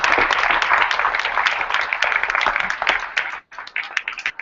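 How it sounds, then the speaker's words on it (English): Audience applause for students at a Rutgers teach-in on a rice campaign, a dense stretch of many hands clapping that thins and breaks up near the end. "I just want to give the round of applause of these students"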